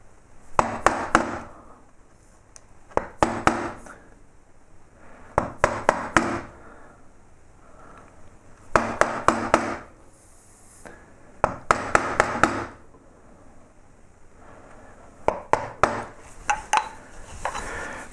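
Chisel struck repeatedly with a mallet while carving lettering into a wooden beer caddy, sharp woody taps in quick bursts of three to six blows separated by short pauses, close and clear.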